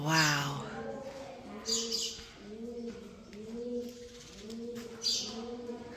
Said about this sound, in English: Birds really add to the overall vibe here.